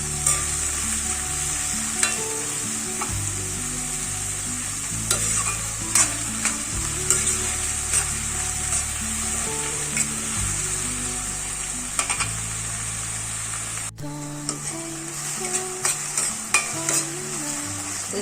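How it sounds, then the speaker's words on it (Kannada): Sliced onions frying with salt in a pan, a constant close sizzle punctuated by repeated scraping stirs and light clinks of a utensil on metal, with a low steady hum beneath and no voices. "ಸ್ವಲ್ಪ ಉಪ್ಪು ಹಾಕಿ ಬೇಗ ಬೇಯುತ್ತೆ ಉಳ್ಳಾಗಡ್ಡಿನ"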